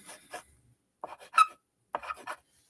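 A drawing lead scratches across glass in short, dry strokes, three separate bursts of gritty scraping with quiet gaps between them, close and fairly faint.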